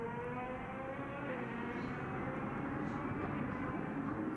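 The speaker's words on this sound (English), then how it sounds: "you can still hear that DTM car echoing around the circuit" A DTM race car engine roars steadily in the distance, its drone echoing and reverberating around a racing circuit with no pauses.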